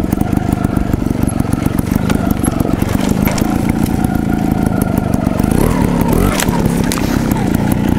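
A Gas Gas TXT trials motorcycle engine runs close by with a steady, buzzy mid-pitched drone, slight rises and dips in revs, and a brief burst of throttle near the end, heard alone without talk.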